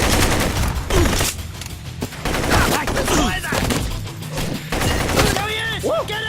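Bursts of gunfire in the shooter game Blue Estate crackle amid loud music and effects, with voices shouting over the busy mix.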